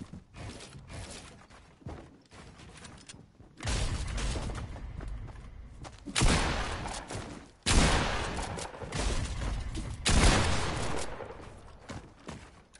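Shots from a blue charge shotgun in a video game ring out in several loud, broad bursts with mechanical clacks between them, spaced a couple of seconds apart.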